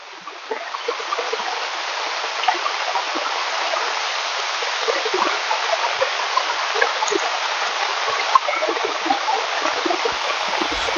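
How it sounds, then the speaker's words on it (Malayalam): Rainwater floods and flows toward a house after an hour of heavy rain. A steady, close, continuous rush of running water sounds like a stream, with no break. "ഒരു മണിക്കൂർ മഴ പെയ്തപ്പോഴേക്ക് ഇതേപോലെ വെള്ളം വന്നത് കേട്ടോ"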